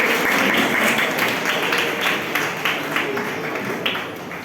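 An audience applauds at a school's 15 August Independence Day programme, with a fairly distant, steady wash of clapping hands that fades slightly toward the end, and faint voices underneath.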